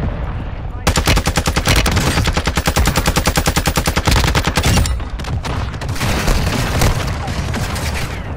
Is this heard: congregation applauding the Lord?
no